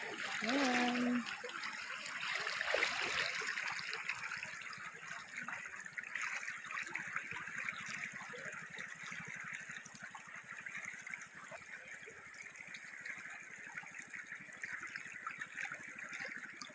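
Flowing water of the Blanca Aurora River, a steady broadband rush that continues evenly throughout, with a brief voice near the start.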